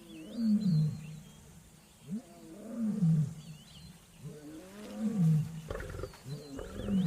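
Wild lions roar by a river in the open, a series of deep, grunting roars repeating in rhythmic bouts at a moderate distance, with faint birdsong in the background.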